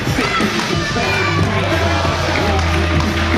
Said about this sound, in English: Our capacity crowd, the IWC faithful, showering, smothering Scorpio and Davey Richards with much deserved respect.